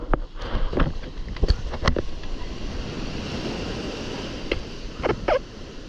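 Ocean waves break and churn at a windy beach break while surfing, with gusty wind buffeting the microphone and sharp splashes and thumps of water close by.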